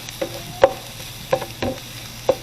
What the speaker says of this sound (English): So now we're going to add the garlic. And stir that in.